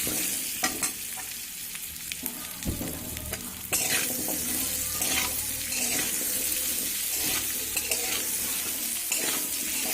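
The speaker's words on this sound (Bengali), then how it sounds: "আর পেঁপে, অল্প হলুদ, অল্প লবণ দিয়ে লাল লাল করে ভেজে নেব।" Papaya pieces with turmeric and salt sizzle steadily in a pan, a dense crackling fry with occasional stirring scrapes, close and continuous throughout.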